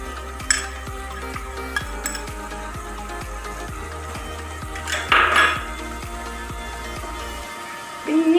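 Spoon or ladle scraping and knocking against a metal pot while beef curry is stirred with spices, a steady run of close clinks and scrapes with a louder clatter near the middle and at the end.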